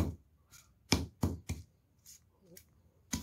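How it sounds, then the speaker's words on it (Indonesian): Spices for patin fish pindang are smashed and pounded by hand. Roughly six sharp, close thuds land at an uneven rhythm, with quiet gaps between them. "Geprek-geprek dulu biar lebih mudah untuk menghaluskan"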